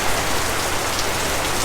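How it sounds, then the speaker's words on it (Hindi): Steady rainfall during the monsoon season in Mumbai, a dense, even hiss of drops hitting surfaces that continues without a break, loud and close, with no voices. "यहाँ पे बारिश हो रही है"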